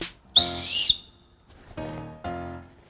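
Two short, shrill whistle blasts, the first longer and piercing, followed by quieter tonal sounds with no talking.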